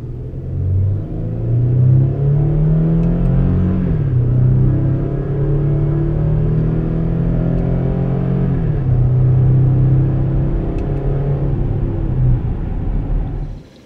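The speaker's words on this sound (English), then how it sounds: "let's go ahead and get a medium acceleration shot of the vehicle when in manual mode" A 2015 Chevrolet Colorado Z71 pickup accelerates in manual mode, its engine droning loud and steady as the pitch climbs, drops at two gear shifts, then climbs again. No one speaks.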